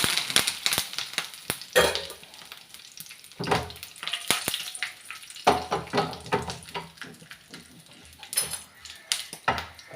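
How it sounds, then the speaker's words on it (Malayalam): Mustard seeds, two chilies and curry leaves hit hot coconut oil in a pan for a fish curry, crackling and sizzling loudly in bursts with sharp pops and spoon scrapes, close by and with no talk. "ചട്ടിയൊക്കെ ചൂടായി വന്ന് കുറച്ച് വെളിച്ചെണ്ണ ഒഴിച്ച് കുറച്ച് കടുകിട്ട്"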